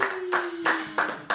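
Guests at a baby shower clapping for the guest of honour in four sharp, loud bursts spaced evenly apart, with a steady tone running underneath at first.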